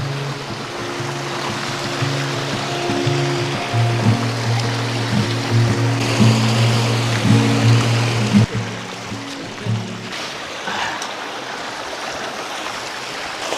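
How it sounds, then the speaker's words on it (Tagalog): A strong river current rushes over rocks, a steady broadband roar of flowing water heard up close, with a low humming tone underneath for the first part and the rush continuing alone afterward. "Parang malapit na kasi palakas ng palakas yung current ng tubig."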